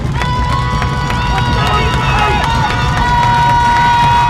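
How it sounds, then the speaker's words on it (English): Home fans at a high school 11B football semifinal between Kindred and Bowman County cheer loudly and steadily, a dense crowd roar that holds throughout with voices and shouts rising above it. "Vikings faithful are cheering loudly"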